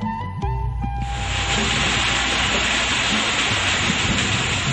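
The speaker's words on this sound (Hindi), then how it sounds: "बीच से कलकल गिरते पानी का शोर फिलहाल उतना नहीं डराता" Chama waterfall pouring over rocky cliffs more than 90 feet high, a dense, steady roar of falling water that swells in after a brief mix of other sounds at the start and holds loud and constant.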